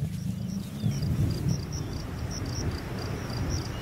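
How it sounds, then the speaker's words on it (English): Rainy-season thunderstorm in lion country in the African wild: a continuous low rumble of thunder and steady rain wash, with a faint insect trill pulsing above, heard alone without voices. "Violent storms lash the area every afternoon."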